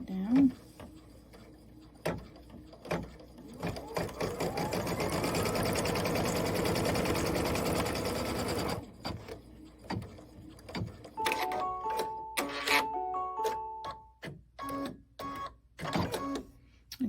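A sewing machine stitches fabric for a Kimberbell Cup of Cheer quilted project, running as a sustained mechanical whir for several seconds, then giving way to sharp clicks and short tonal beeps.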